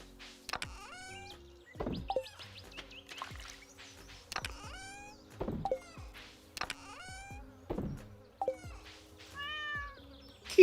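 A cat meowing repeatedly indoors, several distinct rising and falling meows at irregular intervals, fairly close, with a low mechanical hum in the background.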